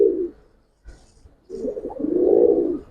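Close, soft, low coos from a giribaj pigeon, two short bursts split by a pause, the second longer and swelling, with no voices.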